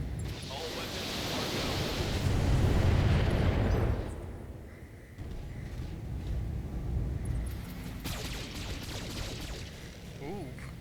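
Mech weapons fire and explosions rumble through a Battletech battle, a heavy low roar building for about four seconds, then easing into a softer, sustained mix of blasts, with a voice briefly speaking.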